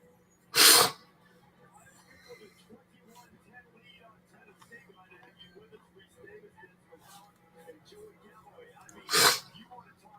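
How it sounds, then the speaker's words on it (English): Two sharp, loud sneezes burst out, one near the start and one near the end, with quiet sniffling and faint background noise between them. "I am sniffing and sneezing all over the place."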